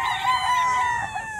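A stag gamefowl rooster on a Bulacan game farm gives one near, clear crow, a bright strained call with a rising then falling line held for just over a second.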